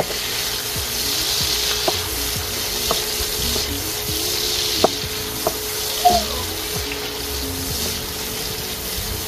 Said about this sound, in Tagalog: Sunod na rin natin dyan yung ating dalawang kamatis na slice natin ng ganyan.